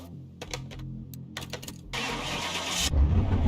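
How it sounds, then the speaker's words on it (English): A car engine in the Car Mechanic Simulator 2021 game cranks briefly, then fires up into a loud, steady idle that runs to the end, with a few clicks before it starts. "Now we should be able to start this bad boy."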